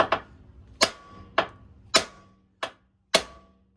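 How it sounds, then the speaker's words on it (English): Metal hammer striking a ball joint on a 2015 Lexus IS250 front strut during a strut install, six sharp ringing blows at uneven intervals, close and alone. "So what you need to do is just hammer it this side or this side, whatever, and will pop out."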